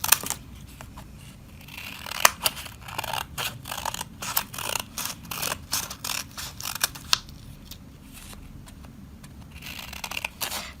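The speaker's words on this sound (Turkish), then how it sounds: "uzun şeritler halinde kesiyorum kağıtlarımı" Scissors cut paper into long strips for a preschool mosaic craft, giving a steady run of crisp snipping and slicing strokes, close and fairly quiet, with no talk.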